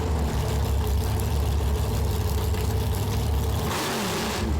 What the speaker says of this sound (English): it's got no mufflers, it's very loud, and it revs like super quick